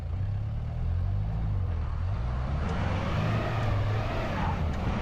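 A Mahindra Roxor accelerating hard on a quarter-mile run gives a loud, steady engine drone that holds close and continuous, with no talking over it.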